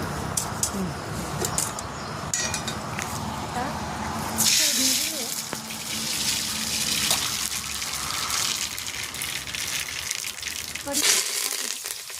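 Oil sizzles and crackles in a pan while chana masala is prepared by hand for a large batch, a steady frying hiss with bursts of spluttering, alongside some background voices.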